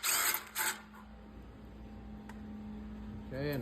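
A 10 mm socket wrench loosens a bolt on a Poulan Pro snowblower during an oil change, with two short, loud bursts of metallic working noise up front, then a low steady hum and a whirring rattle at the end.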